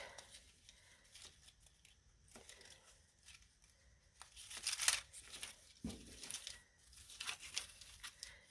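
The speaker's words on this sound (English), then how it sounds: "you're going to find your edge and unfold the paper" Sliced paper for a paper garland is unfolded by hand, the cut strips separating with light crinkles, rustles and small tearing sounds in scattered bursts, close and quiet.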